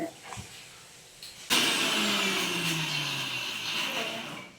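Biryani ingredients being crushed in a kitchen grinder, which starts abruptly after a brief quiet moment and then runs loud and steady, its motor pitch sagging slightly as it works through the load.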